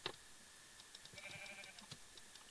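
Sheep bleating in the video game Minecraft, a few short wavering bleats over a low background hum, fairly faint and with no talking.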